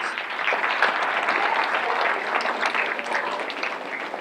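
Parents at a middle school father figure brunch applaud together in a steady, dense burst of clapping that holds evenly for about four seconds at close range, with no talk over it.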